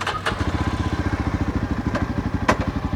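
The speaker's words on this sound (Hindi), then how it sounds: "तो थोड़ा इसका एग्जॉस्ट लाउड है।" A Yezdi Adventure motorcycle idles with a loud, throbby exhaust, its dB killer removed, in a steady rapid pulsing beat close by, with a couple of brief clicks on top.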